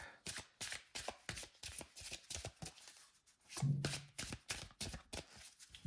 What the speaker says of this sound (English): let's shuffle this up and then we'll pull a card